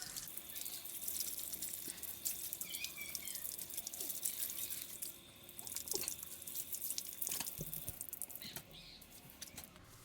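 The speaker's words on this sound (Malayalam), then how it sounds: "നന്നായിട്ട് വാഷ് ചെയ്ത് കൊടുക്കട്ടോ" Tap water runs steadily while washed hair is rinsed, a quiet continuous splashing with scattered drips and patters throughout.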